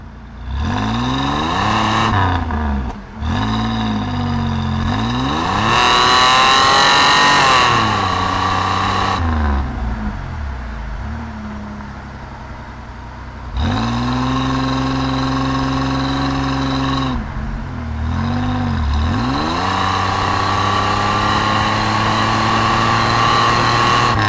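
A 1988 Pontiac Firebird with a V6 engine pulls hard through the gears, its smooth engine note climbing in pitch, dropping at each upshift near 5,800 RPM and rising again, heard loud from inside the car.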